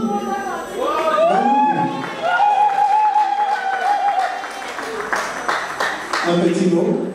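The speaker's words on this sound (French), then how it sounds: "Des applaudissements pour Vini." An audience at a family award ceremony cheers for Vini with loud sustained shouting and ululating voices, then a burst of dense hand clapping joins in, close and lively.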